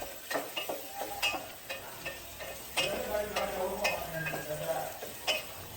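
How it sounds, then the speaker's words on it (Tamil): Mushrooms and potatoes with green chillies being stirred and sautéed in a pan over low heat, a soft continuous sizzle broken by repeated close scraping and clinking of a spoon against the pan. "எல்லாத்தையும் போட்டு கொஞ்சம் கலர் மாறுற அளவுக்கு வணக்கிக்கலாம்."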